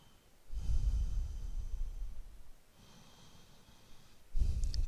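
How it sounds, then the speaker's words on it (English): A person takes a big, deep breath in, heard up close as a soft airy rush that swells and fades. Another short intake comes after a pause, then a sharper one at the end. "Take a big inhale."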